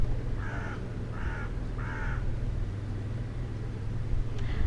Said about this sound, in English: Are these birds gonna finish? I want to continue recording my video.